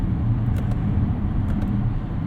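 A 2019 Kia K900 with a twin-turbo engine accelerates, heard from inside the cabin as a low, steady engine drone with a few faint ticks above it.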